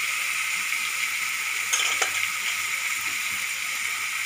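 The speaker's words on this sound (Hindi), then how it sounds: "सूखे मसाले ऐड करेंगे। आधा चम्मच लाल मिर्च, आधा चम्मच हल्दी, एक चम्मच नमक," Dry spices, red chilli and turmeric with salt, sizzling in hot oil for a leftover-rice pulao, a bright continuous frying hiss up close with a couple of brief clinks around the middle.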